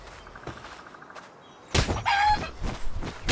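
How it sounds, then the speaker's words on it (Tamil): A chicken in the video game Palworld gives a burst of clucking and squawking after a quiet stretch, loud and close, with thumping game sounds mixed in. "இந்த கோழி என்னால அடிக்க முடியுமா"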